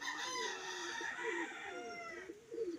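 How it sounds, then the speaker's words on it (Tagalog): Pet chickens heard nearby: a rooster's drawn-out crow rises and falls over soft clucking, with a few louder clucks at the end. "Lalabas ko yung mga alaga kong manok."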